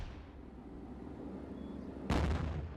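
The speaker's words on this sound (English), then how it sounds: "you can see they're firing at him with the gun" Gun fire in a World War II tank battle in North Africa, 1943: one loud, booming shot cuts in near the end over a steady low rumbling background.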